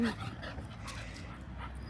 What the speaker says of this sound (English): So, Bowser, when he does want to play, he's quite vocal.